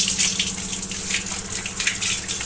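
Tap water runs steadily while pooja room items cleaned with agarbatti powder, soap and detergent are rinsed, a continuous close splashing rush with no pauses.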